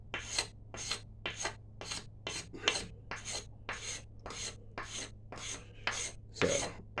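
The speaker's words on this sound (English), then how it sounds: "So it's a whole lot of scraping." A black locust wood bow stave being scraped, about a dozen steady rasping strokes in an even rhythm, close and fairly quiet against a low constant hum.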